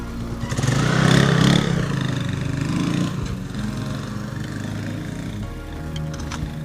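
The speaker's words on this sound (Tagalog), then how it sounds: "Ayun, may motor nga. Kasya nga motor." A small motorcycle engine drones on a rural road leading to Catanagan bridge. It swells louder early as it draws near, then holds a steady buzzing hum as it passes close by.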